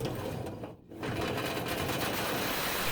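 A drill spins a duct cleaning brush fitted with a wire guide at high speed, a steady, loud whirring drone with one brief dip before it resumes evenly.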